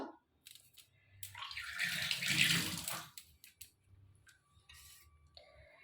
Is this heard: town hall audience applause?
no